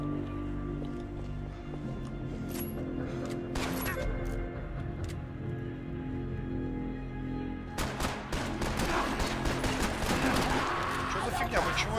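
Bursts of gunfire in the video game Max Payne 3 crackle in sharp volleys, scattered at first and then dense and continuous in the second half, with a voice talking underneath.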